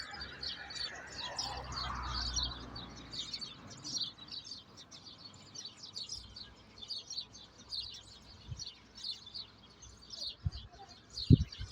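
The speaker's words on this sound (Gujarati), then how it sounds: "ચકલીઓનો અવાજ તો તમને સંભળાતો જ હે કેટલી બધી છે" Many sparrows chirping busily in a dense, overlapping chorus, fairly close, with scattered faint background noises and no clear talk.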